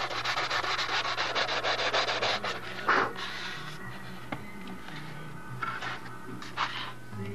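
Steady sanding of an aircraft wing to knock down high spots, a close rhythmic rubbing scratch with a few brief knocks and pauses near the end, no voices.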